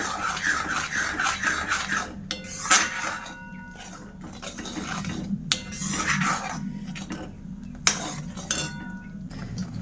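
A metal spoon stirs salt into a mango panna drink, giving bursts of clinking and scraping against the vessel with short pauses between them. No one speaks.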